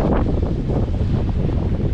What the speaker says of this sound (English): it's windy with a side wind